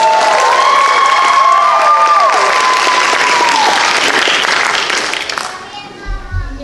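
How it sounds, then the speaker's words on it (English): Audience applause at a high school talent show, loud dense clapping and cheering from a crowd with shrill whoops on top, fading toward the end as voices take over. "Give them a round of applause."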